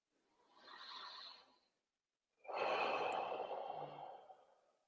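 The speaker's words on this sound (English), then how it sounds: "take a couple big deep breaths" Two long, deep breaths taken slowly and close up, the first a softer airy inhale lasting over a second, then a pause of silence, then a louder, fuller breath trailing off gradually.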